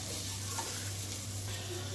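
Onions and tomato soften in a pan for a Chettinad chicken kuzhambu masala, giving a steady, faint sizzle with a low hum underneath, with no voices.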